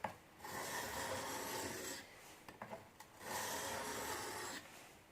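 Steel chisel rubbed back and forth on a chisel sharpener to remove the burr, a close, steady rasping scrape in two long strokes with a brief pause of lighter scrapes between them, no talking.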